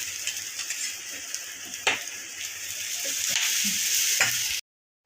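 Thalipeeth made from poha, rava and besan flour fries on an oiled griddle with oil added around the edge, giving a steady close sizzling hiss with a few light clinks, no talking, before cutting to silence.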